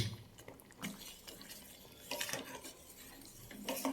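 Banana being stirred into payasam in a pot, a spoon scraping and knocking against the metal with soft liquid sloshing, faint and intermittent.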